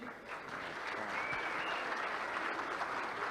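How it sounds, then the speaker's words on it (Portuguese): Conference audience giving a round of applause to a guest, a steady, even patter of many hands clapping together for a few seconds, fairly distant and soft. "salva de palmas aqui"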